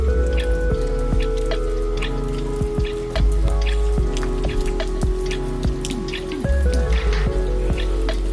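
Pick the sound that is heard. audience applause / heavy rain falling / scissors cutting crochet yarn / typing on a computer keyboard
heavy rain falling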